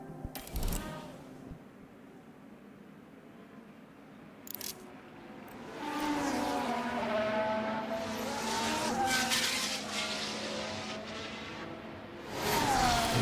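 Simulated Formula 1 cars in F1 Manager 2026 at the Miami circuit, engines whining past with rising and falling pitch, brief tyre squeals, quiet stretches between moderately loud passes, no talk.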